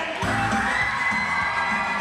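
A wrestling crowd at a CPW Showdown event roars steadily for the champion, a dense wash of cheers, whoops and high-pitched shouts that stays loud and even throughout.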